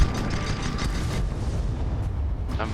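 A mortar shot exploding in an airship battle video game, a loud, close, rumbling blast filling the whole clip with a dense roar that barely lets up.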